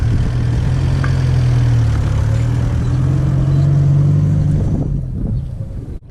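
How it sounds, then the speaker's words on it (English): A 4WD on beach sand, wheels spinning on recovery boards, a loud sustained engine drone with rising and falling revs and gritty churning, close by, easing off near the end. "let your clutch out easy, and the back wheels should grip into the recovery boards, and the front wheels should spin a bit"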